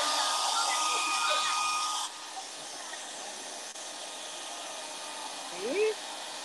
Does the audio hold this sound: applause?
no